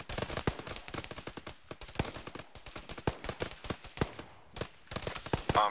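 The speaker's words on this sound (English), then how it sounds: "Why the fuck is he shooting at us?" Video game gunfire crackles in rapid, irregular bursts, dozens of sharp shots overlapping close and distant, with dense volleys broken by brief pauses.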